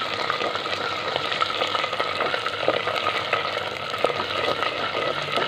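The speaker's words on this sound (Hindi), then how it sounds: "इसमें अब अदरक लहसुन का पेस्ट शामिल करेंगे और चम्मच को हिलाएंगे।" Onions frying with ginger garlic paste in a pan for fish curry, a steady close sizzle with occasional scrapes and clicks of a spoon stirring the mixture.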